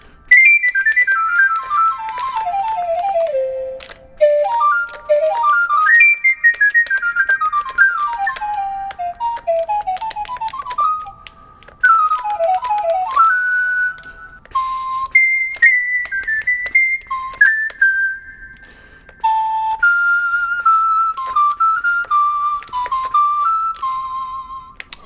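A NUX NES-1 electronic wind instrument set to a Chinese wind instrument voice plays a clear, reedy solo melody with sliding, bending runs and held notes in phrases separated by brief pauses, close and alone.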